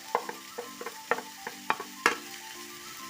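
Sliced onion, green chilli and curry leaves sauté in a pan, a soft sizzle under a series of sharp spoon taps and scrapes against the pan at irregular intervals, close by and with no talking.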